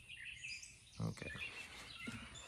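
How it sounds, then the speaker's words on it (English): Faint birdsong chirps and calls in the background outdoors, scattered high tweets layered under a soft low-level murmur. "the birds in the background are yelling at me"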